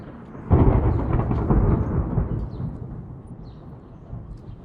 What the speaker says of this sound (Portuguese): O som dos raios e trovões continua.